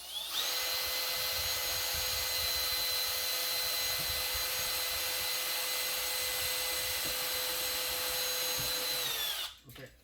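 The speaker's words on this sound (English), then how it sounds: "I'll drill and pilot hole right now, right underneath where the shelf is." A power drill whines steadily as it bores a pilot hole just beneath a shelf for an LED light installation, one sustained close high drone lasting nearly ten seconds before it stops abruptly.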